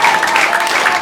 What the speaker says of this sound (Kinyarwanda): Reka bayihomereye amashyi.